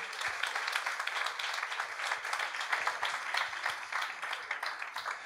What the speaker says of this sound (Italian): Facciamo un applausino del fatigante?